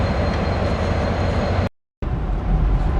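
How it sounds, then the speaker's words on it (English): Train pulling out of Toowoomba station, a loud close rumble of wheels and carriage noise that cuts out briefly to silence before resuming. "we're just pulling out of Toowoomba here, and you see we're backing up"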